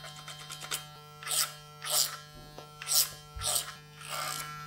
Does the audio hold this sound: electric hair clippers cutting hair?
yes